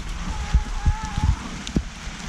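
Rain falls outdoors with scattered drops tapping a surface close by, a soft steady patter with occasional louder hits and faint background noise.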